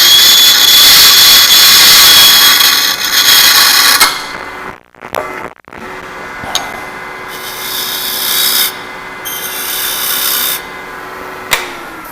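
Harsh power-tool sanding on grooved wood roars steadily, then cuts out, followed by quieter intermittent sanding bursts with brief pauses.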